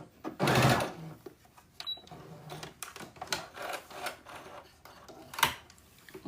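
A home sewing machine back stitches while sewing the Burda 6442 pattern, giving a short, loud burst of close mechanical whirring followed by fainter clicks and handling sounds.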